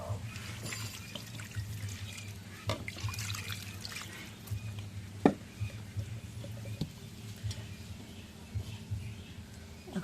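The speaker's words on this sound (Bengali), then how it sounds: "এখন একটু পানি দিই।" Water trickles and drips as a little is added to small mola fish in a pan in a home kitchen, soft pouring and splashes with a sharp clink midway, fairly faint against a steady low hum.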